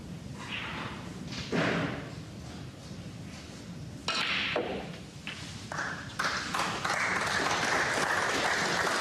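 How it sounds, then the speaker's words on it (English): A snooker audience at the 2017 English Open applauds a frame ball in a few scattered bursts, with claps rising and falling rather than building into a sustained ovation, alongside some dull thuds. "Applause for frame ball."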